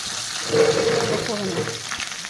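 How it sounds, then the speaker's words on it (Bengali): Taro pieces frying in hot oil tempered with cumin and black cumin, a close steady sizzle with crackling bubbles that swells briefly then settles, a voice talking over it. "জিরে আর কালো জিরে ফুরন দিয়ে কচুটা ছাড়লাম কচুটা ভাজা ভাজা হবে"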